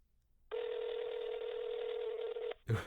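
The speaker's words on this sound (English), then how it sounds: "I'm calling Jacob." A phone call being dialed while the handset is held up, giving one steady tone for about two seconds that stops abruptly, followed by a brief clatter.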